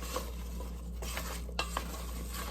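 Chopped apples are tossed with lemon juice in a bowl, a soft wet churning with a few sharp clicks of a utensil against the bowl at uneven intervals, close by and unaccompanied by voices.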